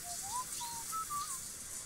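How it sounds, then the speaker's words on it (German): A Sims 4 video game character whistles a short, bright, wavering tune while showering, a few rising and falling notes over a soft hiss of water. "Schön am Pfeifen."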